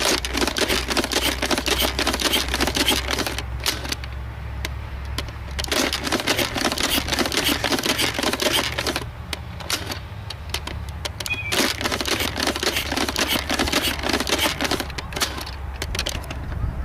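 A vintage Nerf Supermaxx 3000 blaster fires foam darts in rapid rattling bursts, a dense stream of sharp mechanical clacks over a low whirring hum, with short pauses between volleys.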